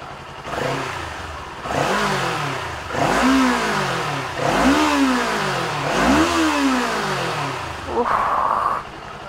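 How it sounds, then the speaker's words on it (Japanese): A Kawasaki Eliminator motorcycle engine starts and revs up repeatedly, rising and falling in several strong close bursts, with a brief voice near the end. "はい、ではエンジンをかけてみます。"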